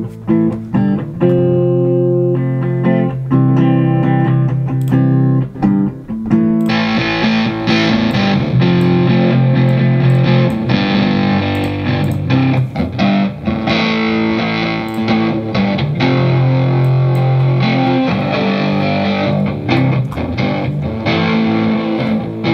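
Electric guitar with crunchy distortion played back in Logic with plugins bypassed, a full band mix with strummed chords, drums and bass, loud and continuous throughout.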